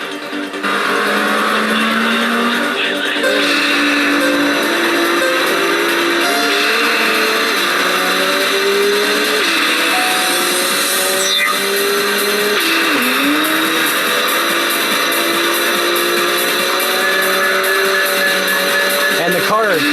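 A tuned car's engine drones continuously at high revs in the Wangan Midnight Maximum Tune arcade racer, with pitch shifts as gears change and squealing tires as the car slides, loud and unbroken throughout.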